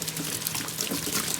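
Water pours steadily from a running PB 5000 water pump set up above water, a continuous loud splashing rush heard up close without speech.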